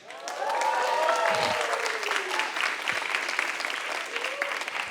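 A concert crowd cheering and applauding at a Singapore rapper's show, loud sustained clapping mixed with shouts and whoops that fill the space, with a voice briefly rising above the noise.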